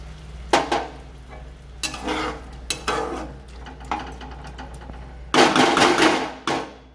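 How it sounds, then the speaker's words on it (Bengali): Chicken cooking in a pan sizzles loudly as a little water is poured in, with the hiss swelling in bursts and a louder surge near the end, mixed with scraping stirs and pan knocks; no talking. "এবার চিকেন সিদ্ধ হওয়ার জন্য অল্প করে জল দিয়ে দিচ্ছি"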